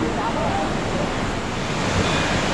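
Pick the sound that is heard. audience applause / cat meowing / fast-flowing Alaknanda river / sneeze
fast-flowing Alaknanda river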